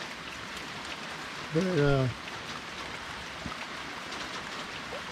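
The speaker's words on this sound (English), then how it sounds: "So, getting plenty of rain." Heavy monsoon rain pours down at a homestead as a dense, steady hiss of drops on surfaces, loud and constant throughout, with a brief spoken word near the middle.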